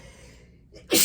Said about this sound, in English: I have sneezes